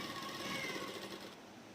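A sewing machine runs steadily while topstitching a seam on a salwar, giving a faint, continuous mechanical whir that eases off near the end, with no voices.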